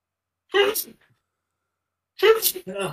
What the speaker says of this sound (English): appropriate that I'm sneezing